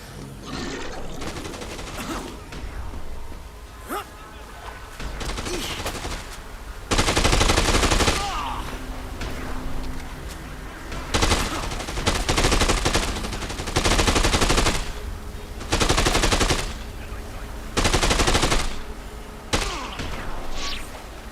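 Bursts of gunfire in the zombie action game Dead Rising 2, loud automatic volleys coming in several separated bursts with thuds and impacts between them.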